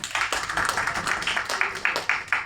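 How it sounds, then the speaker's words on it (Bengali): An event audience claps for poet Imrul Sohel after he is named a humanitarian poet by human rights activists. Several people clap in close, uneven, moderately loud bursts for a couple of seconds, with a faint voice underneath. "একটু করতালি দিবেন না?"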